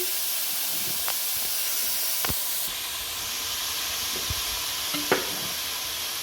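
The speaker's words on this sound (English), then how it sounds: "Now goes in the rice." Rice lands in a pan of vegetables frying in oil, a steady loud sizzle and hiss with occasional scrapes and clinks from stirring, no voices.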